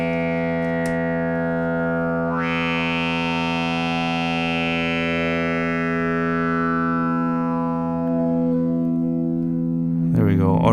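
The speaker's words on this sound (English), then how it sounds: "Already we get this drone moving." A sustained modular synthesizer drone from a fixed sine bank, with rich layered harmonics, its tone slowly shifting as filters sweep, ending in a brief warbling burst.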